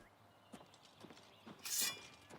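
A horse in Oblivion Remastered clops along with soft, faint hoofbeats, then gives a brief, brighter burst of sound that could be a whinny.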